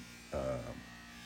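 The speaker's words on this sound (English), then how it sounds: "So now we're gonna buff the back of it" A buffing wheel presses against the back of a vintage Stanley No. 7 jointer plane iron, a short buzzing, humming burst of about half a second over a steady motor hum.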